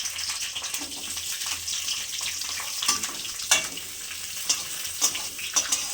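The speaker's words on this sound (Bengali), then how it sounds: "দিয়েছি পেঁয়াজগুলো আর ক্যাপসিকামগুলো একটু ভেজে তুলে রাখবো।" Onions and capsicum fry in a pan, a continuous close sizzle with scattered crackles and occasional sharp pops, no voices.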